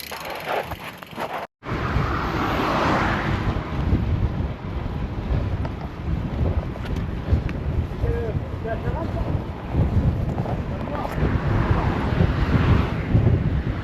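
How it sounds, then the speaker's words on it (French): Strong crosswind buffets the microphone while cycling in a steady roaring rush that continues throughout, with a brief dropout near the start and a voice faintly mixed in. "Avec beaucoup de vent sur le côté"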